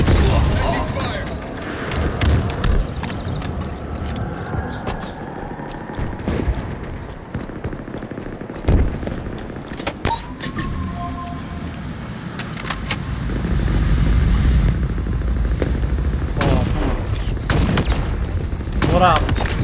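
Gunfire in the Halo Xbox game, scattered sharp shots and short bursts mixed with a rumbling Warthog vehicle engine, with voices speaking over parts of it.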